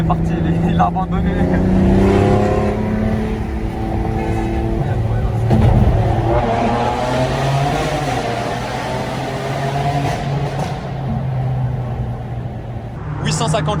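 A BMW M8 Competition with over 800 hp and an Akrapovic exhaust revs hard in a tunnel, loud rising and falling engine roars echoing off the walls, with people talking over it.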